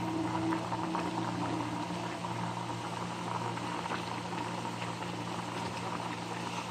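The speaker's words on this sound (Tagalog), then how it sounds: "Medyo maluluto na po ang ating paksiw na bangus" Paksiw na bangus, a milkfish stew, bubbles steadily in a pot at a soft, continuous simmer, close and fairly quiet, with no voices.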